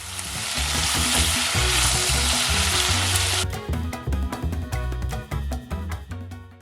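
Zucchini sizzles and fries in a hot pan, a loud dense hiss that gives way midway to a crackling, spitting sizzle with scattered pops, close up and without speech.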